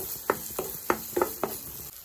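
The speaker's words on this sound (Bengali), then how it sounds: "হাই ফ্লেমে আমি 5 মিনিট একটু কষিয়ে নিই" Masala gravy for matar paneer frying on a high flame, a soft steady sizzle broken by several short scraping stirs at a quick, uneven rhythm.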